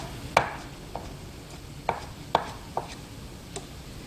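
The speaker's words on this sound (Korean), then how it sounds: "자, 채 썰고 모아서 다져주세요." A knife mincing julienned vegetables on a cutting board for meatball soup gives about eight sharp, irregularly spaced chops, close and crisp against a quiet background, with no talking.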